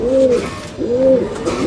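Two close, clear coos from Giribaz pigeons, each a smooth rising-falling call separated by a short pause.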